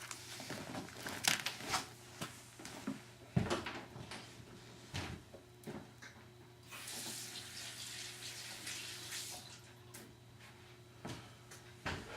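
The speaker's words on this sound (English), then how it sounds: "let me wash my hands and I'll be right back" Tap water runs into a sink while hands are washed, an uneven close splashing with knocks and clatters, rising and falling over about twelve seconds, no talking.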